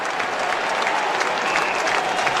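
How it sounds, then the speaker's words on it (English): Crowd at an Australian rules football match between Port Adelaide and Geelong cheering and applauding a star Indigenous player, a dense, steady roar of clapping and voices filling the whole stretch. "And the crowd celebrates its star Indigenous player."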